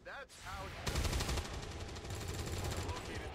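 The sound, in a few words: gunfire shooting in XCOM 2 video game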